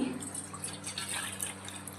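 Water trickles and splashes steadily, a close liquid pour into a vessel to soak glassware for cleaning, with soft dripping over low background hum.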